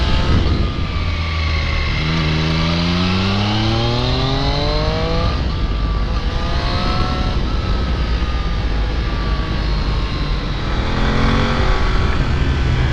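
A Kawasaki Z900 motorcycle engine revs hard while riding on fast twisty roads, loud and close, its pitch climbing repeatedly through the gears with steady wind and road noise underneath.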